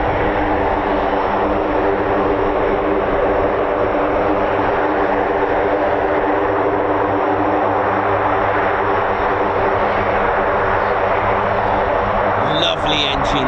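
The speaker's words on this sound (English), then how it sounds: "Lovely engines, listen to them." Military aircraft engines at an RAF airbase, with a KC-135 Stratotanker, MC-130J and CV-22 Osprey present, a loud, steady, close droning roar that holds unbroken throughout, with a brief clatter near the end.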